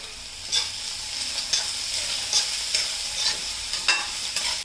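Onions sauté in oil left from frying fish, a steady close sizzle punctuated by regular spatula scrapes and taps against the pan roughly every second, with no voices.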